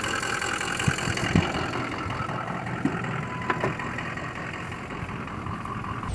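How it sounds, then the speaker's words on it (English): A 6.0 Powerstroke diesel truck that sat unused for years idles steadily nearby, a continuous rough rumble broken by a few faint ticks and clicks, with no talk over it. "finally managed to get it to turn over, and it cranked right up"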